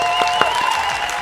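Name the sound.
round of applause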